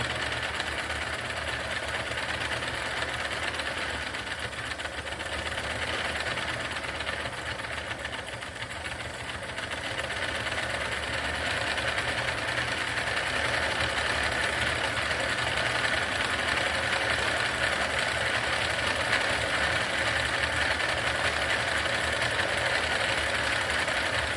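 A fuel-fired model steam engine runs under steam with the fuel valve opened wide, giving a continuous, fast, even mechanical chuffing drone mixed with a hiss that stays steady and fairly close throughout.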